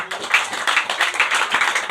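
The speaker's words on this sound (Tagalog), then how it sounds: "ipalakpak ko no ang inyong mga kamot" Church congregation clapping hands during a sermon, a quick, dense run of close, bright claps in an uneven rhythm, loud and sustained across the moment.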